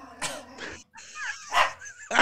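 An irritated dog barks several times in sharp bursts, close and fairly loud, with short pauses between the barks and no talk over them.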